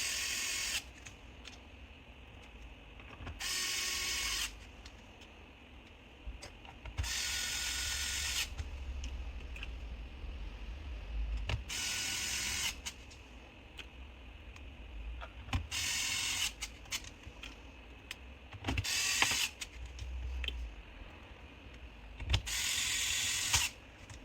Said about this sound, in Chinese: 然后按照顺序把螺丝给锁回去